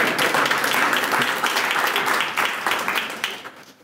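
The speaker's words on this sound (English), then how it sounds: "Go ahead, you can clap" Audience applause at a ribbon cutting for a recreation center, a dense steady clapping from a crowd filling the space nearby, holding strong before thinning toward the end.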